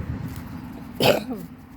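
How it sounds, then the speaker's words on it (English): A single close, brief throat clearing bursts out over a low background murmur. "Apologies, clearing my throat here on camera."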